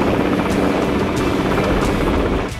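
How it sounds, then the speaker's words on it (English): Helicopters climbing in wide ascending spirals over Ilfracombe, a loud continuous rotor thrum with rhythmic blade pulses, close and steady, easing slightly at the end. "the helicopters describe huge ascending spirals over Ilfracombe"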